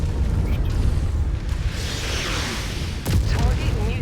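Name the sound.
artillery fire in Mechwarrior 5 Mercenaries video game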